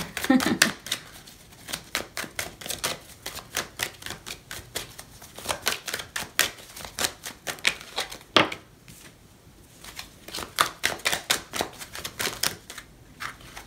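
Tarot cards are shuffled over and over in quick riffling, flicking bursts. The sound is fairly close and continuous, and a voice talks over parts of it.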